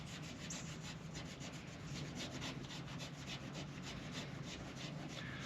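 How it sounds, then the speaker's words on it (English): A 3M lead test swab rubbed on a cut in mobile home siding makes a faint, steady, rhythmic scratchy scrubbing, with fast back-and-forth strokes and no talking. "we're going to rub this right where I made this cut with some of that right there"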